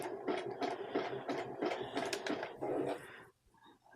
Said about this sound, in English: I'm going to sew those 2 together